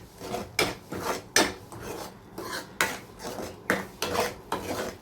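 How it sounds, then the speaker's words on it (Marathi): A spoon scrapes rhythmically around a pan while shev bhaji is stirred and sautéed, with about ten repeated, close, scratchy strokes and no voices. "अशा प्रकारे हे छान परतून घ्यायचं."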